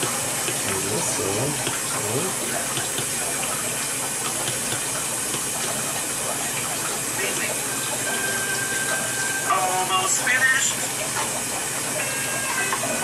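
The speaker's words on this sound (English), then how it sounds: "Now we pour it in the bottle." Liquid is poured into a bottle, giving a continuous hissing, watery rush that holds steady for several seconds and swells briefly near the end.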